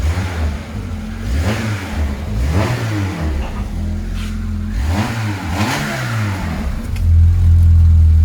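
A 1997 Peugeot 106 hatchback's small engine revs up and down several times in rising and falling sweeps, close by, ending in a louder sustained roar.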